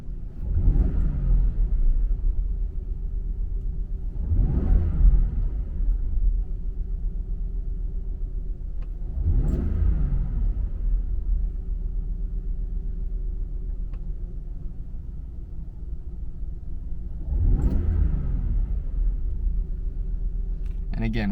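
Stock-intake supercharged Jaguar XJR engine revving in four separate throttle blips, each swelling and falling back to a steady idle rumble, up close and fairly loud.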